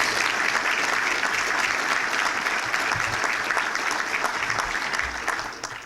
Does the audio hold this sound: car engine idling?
no